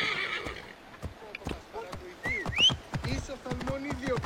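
A horse whinnies in a video game, a rising call standing out amid a busy mix of talk, hoof clatter and other game sounds.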